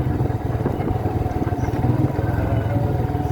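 A motorcycle engine on a village road in Nagreg, Indonesia, rumbles with a steady low throb after slowing for a speed bump, heard close and continuous with wind noise.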